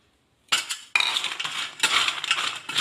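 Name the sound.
mixing fried spice masala into fried wheat biscuits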